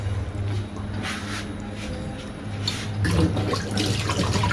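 Water runs steadily from a tap while a dal khichdi is being made, a continuous close splashing stream that swells louder near the end.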